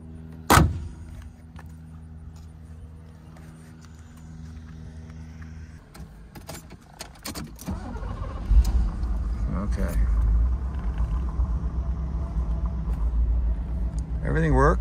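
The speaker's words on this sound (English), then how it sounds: "So let's close the hood, start the car." A loud thud like the hood of a 1989 Mercedes 560SL slamming, clicks and rattles, then the engine cranks and settles into a steady low idle rumble.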